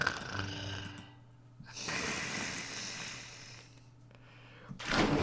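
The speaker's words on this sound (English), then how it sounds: "Insert weird snoring noises here." Weird snoring noises in the Shark Dating Simulator video game come as two long, rough, breathy snores with a low droning rumble. A louder snort-like burst follows at the end, with no talking.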